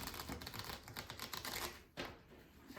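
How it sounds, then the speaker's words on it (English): New, slippery playing cards are shuffled close by, giving a fast, dense flutter of crisp card snaps that halts briefly, then starts again, with no voices. "I'll give them a little bit of an extra shuffle on camera just so you can see that"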